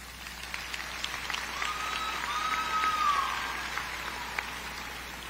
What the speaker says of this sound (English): Take the time now to applaud each other and those that left a mark on you